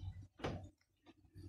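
The central door lock actuator of an Isuzu D-Max pickup, fitted with a replacement motor, fires a quick faint mechanical clunk followed by softer clicks, heard close in a quiet setting.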